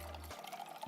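Ginger beer mocktail poured into a glass, a short liquid splash and trickle with no voices, a low hum cutting out partway through.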